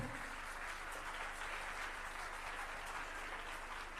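An audience at a ghazal poetry recital in Palanpur claps steadily as a poet is welcomed to the stage, a dense, even wash of applause heard from a distance.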